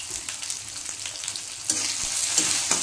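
Chopped onions and carrot frying in a pan for gobi fried rice, a steady close sizzle with soft stirring scrapes and bursts of louder hiss, no voices.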